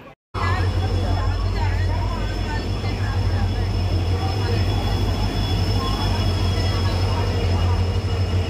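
A train stands at a station platform during a five-minute stop, producing a loud, continuous low engine hum and whine with ambient platform bustle, and a person speaks over it.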